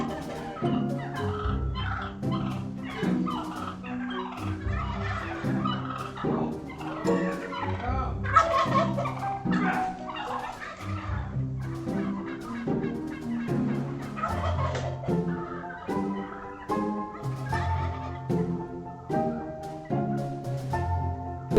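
Several turkeys gobble in loud, repeated, overlapping bursts aimed at a UPS delivery driver, their rattling calls filling the yard close by with hardly a pause.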